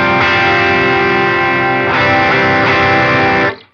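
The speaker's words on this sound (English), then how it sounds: "Next, I have a Minotaur overdrive, which that is a copy of the Klon." Saturated electric guitar through a Line 6 Helix, with a Minotaur overdrive (Klon copy) stacked on two other drives: a few loud, thick, mid-heavy chords ringing alone, then cut short.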